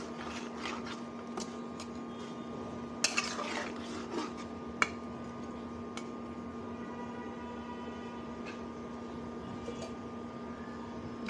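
A utensil stirring turmeric into eggplant curry in a pan, with faint, sparse scrapes and taps over a steady low background hum.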